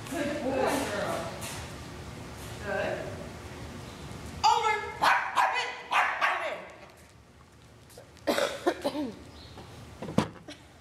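A dog gives a few sharp barks amid people talking nearby, with some quieter yips between the voices.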